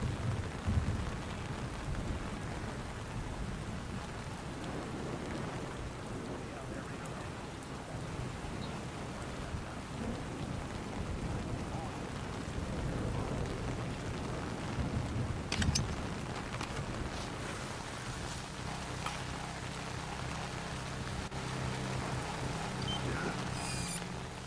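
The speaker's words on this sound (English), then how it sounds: "Man, it's really raining." Steady heavy rain pours throughout with low rumbles of thunder rolling underneath in the video game Splinter Cell Chaos Theory, a constant dense hiss that barely changes over the whole stretch.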